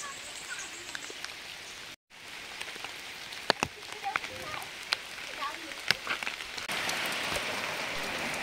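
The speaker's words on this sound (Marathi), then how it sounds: "या अचानक आलेल्या पावसामुळे ढोरही जरा सुकावली होती आणि पावसाळी वातावरण झालेलं आहे बघा" A sudden summer downpour patters steadily on nearby surfaces, with scattered sharper drops tapping close by and a brief dropout early on before the rain swells slightly louder toward the end.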